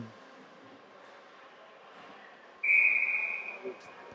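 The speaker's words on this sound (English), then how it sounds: "referee's whistle goes" A referee's whistle at a youth hockey game in a rink shrills in one sharp, sustained blast that cuts off abruptly, following quiet arena ambience.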